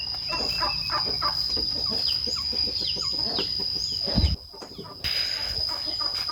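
Chickens cluck in a series of short, close calls on a rural farm near a rubber plantation, one bird much louder than the rest, with a steady high insect-like whine and a short quiet gap.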